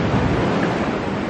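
Ocean surf washing onto a beach at Panama City, a steady, close rush of broken water with a little wind noise and no voices.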